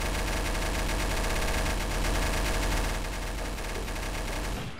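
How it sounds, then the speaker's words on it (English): Light machine gun fire in Trouble in Terrorist Town, a loud, unbroken stream of rapid automatic shots filling the whole stretch before cutting off abruptly at the end. "I can't hear because of LMG fire."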